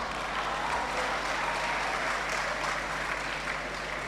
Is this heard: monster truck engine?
no